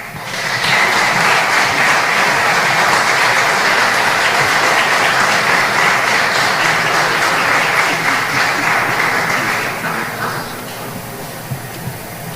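Dense, loud audience applause at an award ceremony honouring Belizean patriots, steady clapping for about ten seconds before tapering off into scattered claps.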